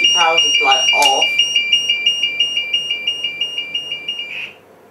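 A garage fire alarm's heat detector and sounder goes off with a piercing, steady high tone that pulses rapidly and then cuts out near the end, while a person talks briefly at the start.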